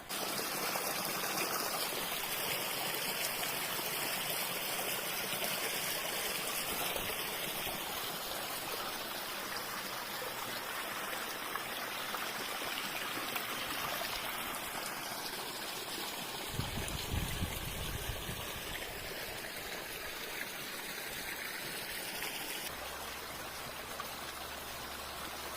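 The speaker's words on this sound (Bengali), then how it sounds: "এই ঘুরে থেকে পানি আসছে।" Water trickles and flows from a natural spring stream at a picnic spot in Italy, a faint continuous babbling wash with small splashes, heard close by and alone.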